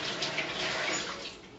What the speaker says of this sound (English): throw a little water on there. If it starts to dance around,